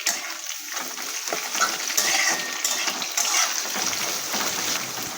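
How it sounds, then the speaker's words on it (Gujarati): Sliced onions, cut into long slices for a Gujarati potato chip curry, cook in a pan while being stirred, giving a steady close sizzle with scraping and clinking of the utensil throughout. "તો અહીંયા આપણી ડુંગળી થોડીક સોફ્ટ થાય ત્યાં સુધી આપણે એને કૂક થવા દઈશું"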